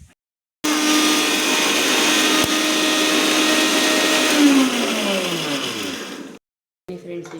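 A kitchen mixer grinder grinds coriander and tamarind for village-style upsaaru, a loud continuous whir for about six seconds that winds down at the end before a short clatter.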